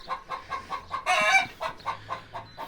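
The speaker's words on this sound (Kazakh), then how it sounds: "Әй, мына тауықтан қорлығай." A chicken clucks close by in a steady rhythm of short repeated clucks, with a louder squawking burst partway through.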